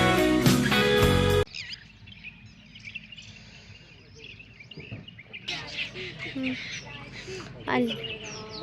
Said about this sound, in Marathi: हे पक्षी कोणते पण